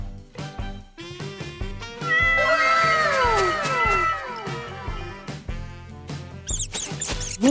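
A cat meows repeatedly in sliding, wavering cries, some drawn out and rising or falling in pitch, with short squeaks and shuffling noises in between.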